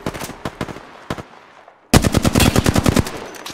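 Apex Legends automatic gunfire crackles in rapid bursts: a choppy run of shots, a brief pause, then a longer, denser close stream of loud rounds that tapers off near the end, with no speech.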